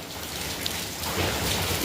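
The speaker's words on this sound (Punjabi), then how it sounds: "ਗੜੇ ਪਈ ਜਾਂਦੇ ਨੇ" Hailstones fall in a storm in Sangrur, a dense, continuous close clatter and patter on the ground and surfaces, loud and unbroken throughout.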